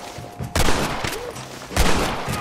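Sniper rifle fire in the Western game Red Dead Redemption: two loud, sharp shots about a second apart, each with a broad crack and a ringing tail over steady game ambience.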